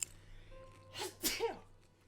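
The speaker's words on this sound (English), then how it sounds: "I'm going to sneeze." A single sneeze, quick and fairly quiet, with a short inhale before the burst and a faint hum in the background.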